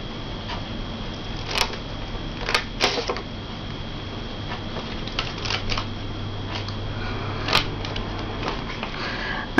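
Scissors cutting along the lines of a cracker-style greeting card to trim off the white edges, giving quiet, sparse snips and sharp clicks at irregular intervals over a soft steady background hum.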